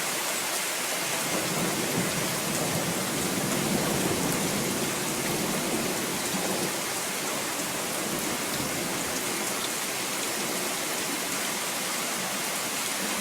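Steady heavy rain pours down near a horse barn during a lightning storm, a constant dense hiss with no break and no voices.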